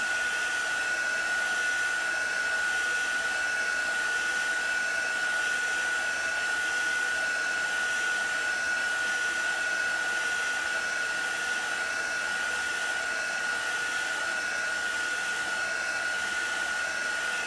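Steady, close hair dryer blowing continuously at a constant pitch on a chalk transfer, loud and alone with no talking.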